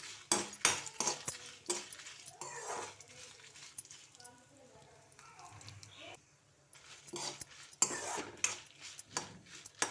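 Dried red chillies stirred in a metal pan, a spoon scraping and clinking against the pan in quick irregular strokes, close by, with a dog's bark and some voices in the background.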